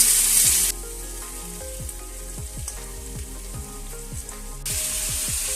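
Mixed vegetables frying in a pan for a Chhath festival dish, a soft sizzle under repeated spatula stirs, accompanied by a steady musical backing.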